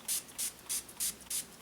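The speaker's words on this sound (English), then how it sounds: "We're going to go in with the LA Girl Pro Setting HD High Definition" LA Girl Pro Setting HD mattifying setting spray misted onto a face in five quick, evenly spaced hissing bursts, close and crisp with short silences between.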